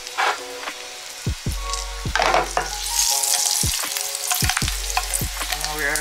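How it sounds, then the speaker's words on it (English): Garlic and curry powder fry in a hot pan with steady, loud sizzling, broken by several sharp knocks and scrapes of a utensil stirring against the pan; no talking. "This is called the process of burning the curry powder."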